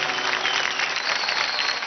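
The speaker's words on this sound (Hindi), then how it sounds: "और अब जोरदार तालियों से स्वागत कीजिए" An audience claps steadily on a televised dance competition stage, a brief dense burst of applause heard on its own without talk.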